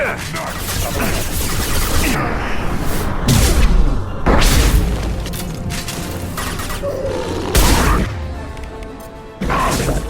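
Shotgun blasts in the Mass Effect 2 game ring out as several loud, sharp bursts spaced a few seconds apart, each with a booming low tail, over battle noise and game voices.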